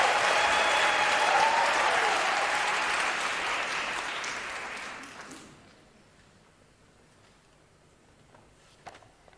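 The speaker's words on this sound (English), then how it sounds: "May I therefore request you to give yourselves a round of applause." Applause from graduates at a university graduation ceremony, a loud, dense wash of clapping that swells, then fades out after several seconds, leaving a quiet hall.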